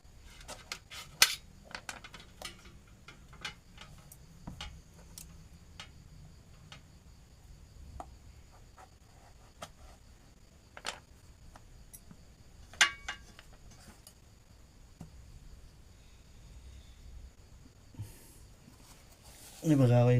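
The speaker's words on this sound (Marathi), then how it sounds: "वहिनी दुधीमधून कापून घेते आणि त्याची सालं काढून घेऊन त्याची फोडी करणार आहे बारीक" A knife cutting and peeling a bottle gourd (dudhi) for a vegetable dish: scattered sharp clicks and light scraping taps, faint and irregular, under a quiet background with speech.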